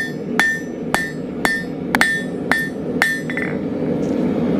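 Hot steel is hammered on an anvil to taper the end for a dinner bell triangle, seven sharp ringing blows at an even pace, each with a bright metallic ping, followed by a quieter scrape.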